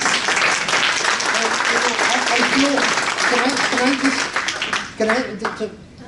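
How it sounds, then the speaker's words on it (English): A lecture audience at an interfaith study group applauds the speaker with a loud, steady wash of clapping, while voices talk over the applause as it continues. "Can we give him our applause and our thanks?"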